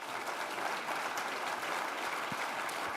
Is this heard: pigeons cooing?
no